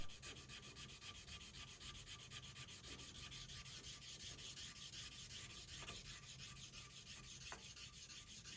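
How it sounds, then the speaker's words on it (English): A Damascus steel chef's knife blade is hand-sanded at 800 grit, a soft, steady rasping rub that repeats in even strokes, close and quiet with no talking. "I begin by resanding it at 800 grit"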